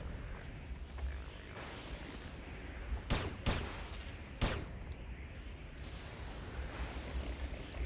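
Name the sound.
pistol gunfire from the video game Anarchy Online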